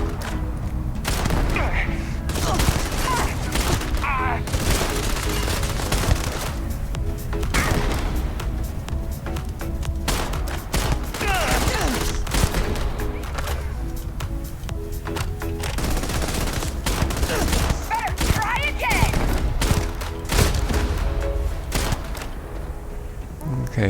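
Gunfire from the Experiment A7 and Riot Shotgun in Starfield, rapid bursts and heavy blasts repeating through the whole stretch with thuds and impacts, loud and dense, with game sounds around.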